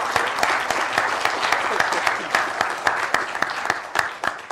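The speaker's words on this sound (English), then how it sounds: "Can everyone please join me in a round of applause for our lovely youth commissioners?" Audience in a county board of supervisors meeting room gives the youth commissioners a round of applause, loud crisp clapping from many hands sustained throughout.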